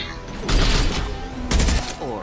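Two bursts of rapid gunfire in the Mass Effect 2 video game, loud, close and crackling, each lasting about half a second, over a background of game voices and ambience.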